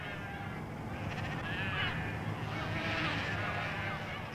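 Sheep bleat on a Falkland Islands sheep farm, a flock's overlapping cries rising in a continuous wavering chorus over steady outdoor background noise.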